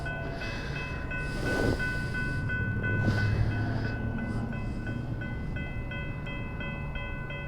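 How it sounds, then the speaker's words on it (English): Trains rumble past from both directions with clattering wheels and a steady, tonal hum, joined by a brief horn-like blast; continuous and fairly close, with no voices. "Well, now we got trains coming from both directions."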